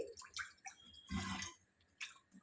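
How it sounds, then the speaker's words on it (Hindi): Water is poured into a pot of whole masoor dal during cooking, a burst of splashing and gurgling lasting about half a second, with smaller drips and trickles before and after. "मैं और थोड़ा सा पानी ऐड कर दूंगी।"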